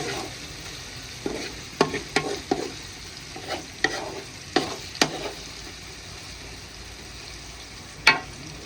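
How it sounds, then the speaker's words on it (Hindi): Spices browning in hot oil in a village kitchen, stirred with a big spoon: steady close sizzle broken by a series of sharp scraping clinks of the spoon against the pan, spaced irregularly and louder near the end. "चलो जी, हमारे मसाले अच्छे तरीके से ब्राउन हो गए हैं"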